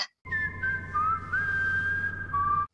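A single person whistles a wavering melody of sustained, sliding notes, clear and close, over a low steady hum.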